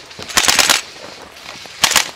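Bursts of automatic gunfire from a shooter video game, one long rattling volley followed after a pause by a second short burst, loud and close with no talk over it.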